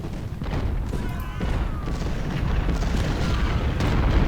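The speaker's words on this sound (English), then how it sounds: "Come on, artillery, open up." Civil War artillery battery firing in Ultimate General: Civil War, deep booming cannon shots layered over a constant rumble of battle noise, with someone talking throughout.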